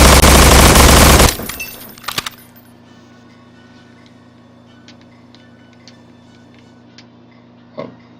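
Gunfire in the video game Estranged: a loud dense burst of rapid automatic shots for about a second, then a couple of sharp single reports and faint mechanical clicks and ticks trailing off, with no voices.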